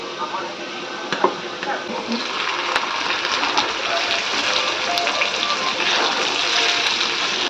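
Starchy water from boiled rice pours out as it is drained in a home kitchen, a steady close gushing and trickling with a few light knocks, no talk heard.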